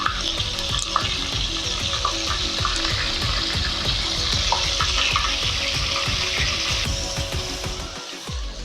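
Crushed ginger and garlic fry with curry leaves in a pan for a Kerala-style dish. A continuous loud sizzle carries rapid crackles and stirring scrapes throughout, with a brief quieter dip near the end.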